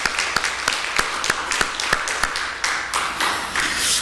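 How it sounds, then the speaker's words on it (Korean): A church congregation gathered for Sunday worship claps to welcome visiting guests and parents: sharp individual claps ring out near and distinct at first, then thicken into a denser, louder round of applause toward the end. "힘찬 격려의 박수로 또 환영하도록 하겠습니다"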